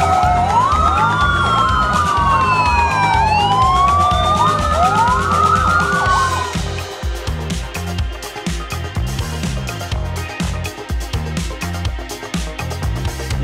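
A wailing electronic siren from a toy fire engine sweeps up and down loudly, then gives way to a rhythmic mechanical toy beat with clicking and whirring.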